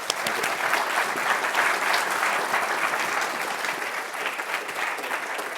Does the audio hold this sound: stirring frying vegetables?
no